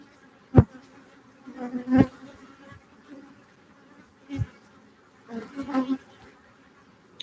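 Honeybees in a large colony buzz continuously, with several close fly-bys rising loud against the hive's softer, constant hum.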